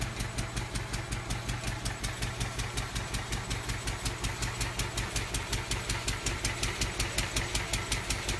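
A Lister D stationary engine runs steadily, a rhythmic, evenly spaced chugging beat with a low thump on each stroke, moderately close and alone with no talking.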